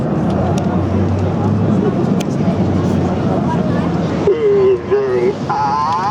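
Red Arrows jets fly past in formation at the Clacton-on-Sea air show, a broad, steady roar with a rumbling low end under a commentator's voice and crowd babble, followed by tonal whistles near the end.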